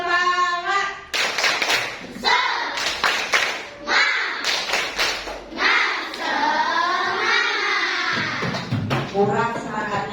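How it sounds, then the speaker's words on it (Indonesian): A primary school class performs a rhythmic spirit clap in the classroom, bursts of many children clapping in quick patterned groups, alternating with children chanting along and a teacher's voice. "Oke, kita tepuk semangat dulu."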